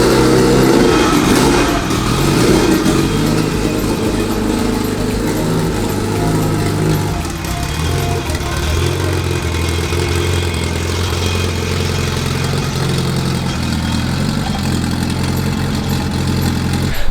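Turbo Honda EK hatchback engine running and pulling away, a continuous loud buzzy drone that stays steady for the whole stretch with no talk over it.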